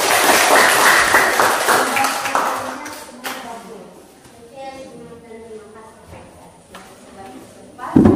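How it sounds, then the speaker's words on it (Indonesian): A school class applauds a group's presentation in a classroom, with a burst of dense clapping for about three seconds that fades as a voice starts talking. "Berikan tepuk tangan sekali lagi"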